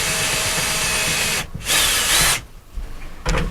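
A power drill boring pilot holes through wooden bed slats, running loud and steady in bursts with brief pauses between passes, close up with no talk.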